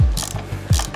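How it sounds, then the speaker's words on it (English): Ratchet spinning to undo nuts and bolts on a stand build, a few quick bursts of clicking pawl close and loud with short pauses between. "I know I'm only undoing like nuts and bolts"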